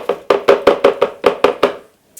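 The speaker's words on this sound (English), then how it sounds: "So I'm going to dump my quinoa in here." Dry quinoa poured into a high-speed blender jar, heard as a rapid series of about nine sharp rattling pulses, close and fairly loud, ending in a brief pause and a faint final tap.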